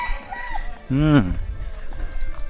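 A rooster crows once in a mountain village, a clear rising-and-falling call at moderate distance, with faint voices and outdoor background around it.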